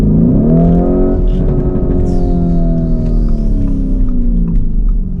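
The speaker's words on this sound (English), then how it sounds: "The bark of that exhaust." A car engine revs hard in a garage setting, a loud, close throaty exhaust bark rising and holding for several seconds before easing off, with no voices over it.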